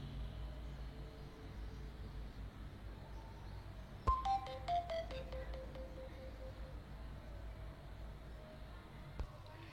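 Startup chime of an itel A15 smartphone powering on, a short rising series of bright electronic tones that lasts about a second, faint and alone over steady room noise, with a small click near the end.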